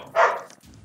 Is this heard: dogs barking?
yes